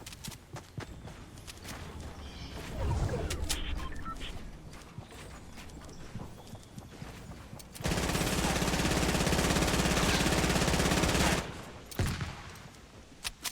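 A new overpowered gun in the Fortnite video game lets off a loud, dense burst of rapid fire lasting a few seconds, after scattered footsteps and smaller shots.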